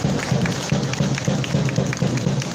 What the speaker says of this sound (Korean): 그 집회 준비하신 모든 분들께 큰 박수, 감사의 박수 보내주시기 바랍니다.